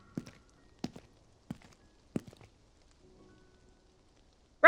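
Audio-drama effect of footsteps in the rain after an opera: four slow, distinct steps landing crisply and close, with faint patter between them and a louder burst at the very end.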